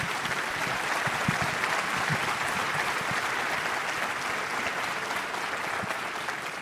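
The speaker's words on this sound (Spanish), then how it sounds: "Les pido un aplauso para nuestros panelistas." A conference audience applauds panelists after a health-industry panel, the clapping dense and steady across the whole stretch, with crowd murmur faintly underneath.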